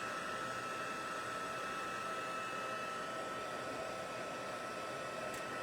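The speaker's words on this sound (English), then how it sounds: "It takes a minute for the heat tool to get really, really hot and for the leaves to react." A heat tool blows hot air onto leaves in crafting work, giving a continuous, even hiss like a hair dryer, close and steady throughout with no talk.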